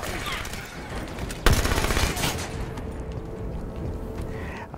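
Gunfire in the Halo 5 video game during a Blue Team mission, a sharp close blast followed by a rapid rattle of shots over a dense, constant battle background.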